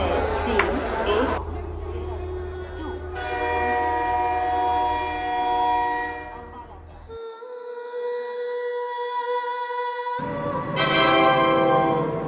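The Ganga Sutlej Express from Dhanbad pulls into platform 1 of a railway station, with a steady rumble and sustained horn-like tones over about twelve seconds that briefly thin out before swelling again, alongside indistinct station voices.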